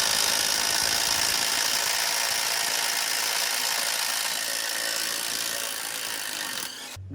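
A ratchet cranks away steadily, working the 15 mm exhaust flange nuts loose on a Ford Explorer 4.0, close and continuous for several seconds before tapering off, with a brief clunk at the end.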